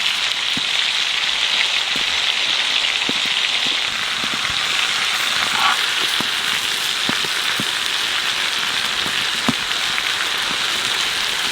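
Giant freshwater prawns fry in a pan with a continuous, even sizzle. Occasional small pops and crackles break through, with no talking.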